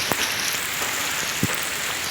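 Light rain patters steadily outdoors as a soft, even hiss, with a couple of slightly louder drops landing nearby.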